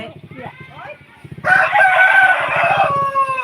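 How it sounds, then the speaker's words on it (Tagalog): A hen and other chickens make loud, close harsh calls and clucks, a drawn-out raucous call standing out in the middle while a person talks underneath. "Behold, Mama Hen"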